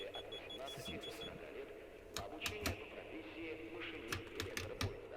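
Sharp clicks and relay-like taps from an 81-720 metro train in the Metrostroi simulator come in irregular bursts over a low electrical hum, fairly faint and close, with a steady beeping tone early on.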